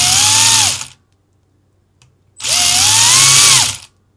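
An RC servo controlled by a Flysky G11P transmitter whines in two loud motor runs with rising, bending pitch, separated by a near-silent pause and a faint click, each sweep slowing as brake delay applies.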